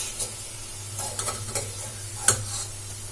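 Poha and gram flour snack pieces frying in hot oil give off a steady low sizzle with a few soft stirring clinks and scrapes, fairly faint and close, with no one talking.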